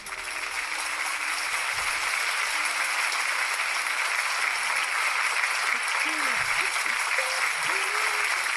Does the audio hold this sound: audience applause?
yes